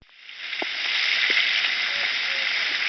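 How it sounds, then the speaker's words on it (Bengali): Prawns hit a hot oiled pan and a bright, steady sizzle rises quickly and holds, close and moderately loud, with a few small clinks in the background. "এবার আমি মাছগুলো দিয়ে দিচ্ছি।"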